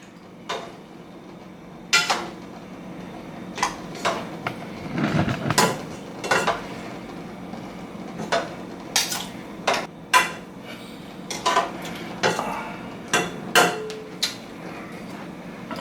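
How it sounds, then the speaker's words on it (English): Seasoned beef cubes for oxtail and gravy drop into a cooking pot one after another, producing irregular metallic clinks and knocks of utensil against pot, close up with quiet pauses between. "I'm putting all the beef cubes inside my pot"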